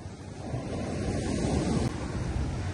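Waves of rising water surge and wash continuously near the microphone, a steady roaring surf mixed with wind buffeting, loud and unbroken with no voices.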